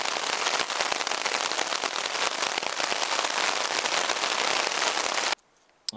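Steady, dense rain falls outdoors during a wilderness canoe trip in Wabakimi, a loud hiss pattering close by for over five seconds before cutting off abruptly into near silence.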